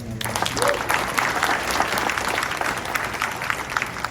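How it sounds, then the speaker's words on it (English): A crowd applauds at a food-tech pitch competition in Chicago. The clapping is sustained and dense from start to finish, at moderate loudness in a large room. "So maybe a round of applause for everybody"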